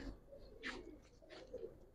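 Racing pigeons, a pair of female Giribaz birds, give soft low cooing calls in two short bursts, fairly close, with light background noise and no talking.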